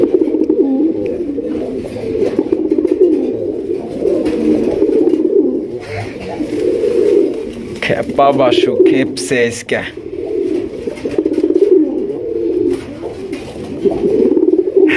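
Pigeons in a loft full of chicks, including raj gola birds, coo continuously in layered, throaty calls, with someone talking over them near the middle.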